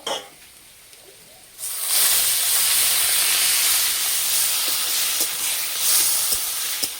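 Boiled taro hits a hot pan and sets off a loud, sudden sizzle after a quiet start, then a steady hissing fry that continues to the end.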